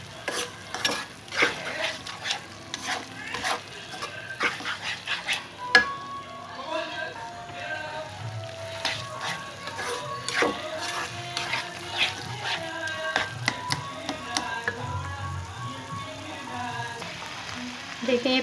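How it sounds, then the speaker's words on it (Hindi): Spinach sautéing in a pan sizzles softly under repeated scraping and clinking of a spoon stirring it. The stirring comes in irregular bursts over a low steady hiss, with some background voice or music faintly audible. "देखिए पालक डाल चुकी हूँ, इसको थोड़ा सा मैं भून लेती हूँ।"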